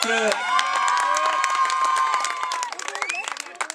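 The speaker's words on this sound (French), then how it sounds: "on applaudit bien fort notre podium" A crowd at a show jumping competition in Saint-Lô applauds and cheers for the podium riders, with dense clapping that thins into scattered claps near the end.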